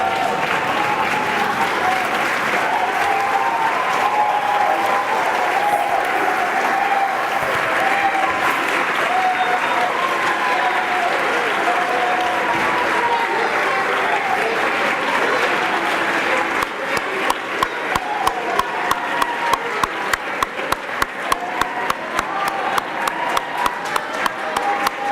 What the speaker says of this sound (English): turn to your coaches and give them a round of applause and thanks